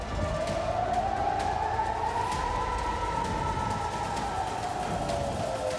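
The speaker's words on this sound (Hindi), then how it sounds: "जैसे सायरन इजराइल में गूंजे" A long, wailing air raid siren in Israel rises and falls slowly, steady and sustained over background rumble, sounding somewhat distant.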